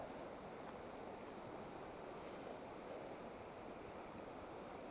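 A creek flows steadily at a campsite in Slate Creek Canyon. It makes a faint, continuous broadband rush of water with no voices.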